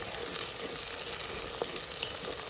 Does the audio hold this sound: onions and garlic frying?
yes